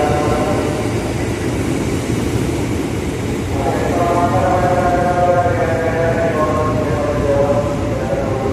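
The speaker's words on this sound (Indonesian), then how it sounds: "Itu adalah kereta api yang menuju ke arah kota." A commuter train rumbles steadily close by at a large transit station in Indonesia, its loud low drone joined midway by rising tonal whines as it moves along the platform.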